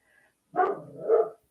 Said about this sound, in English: I don't know what he's barking for.